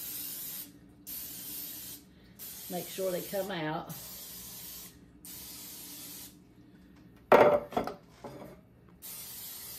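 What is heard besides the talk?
canola cooking spray sprayed into a muffin tin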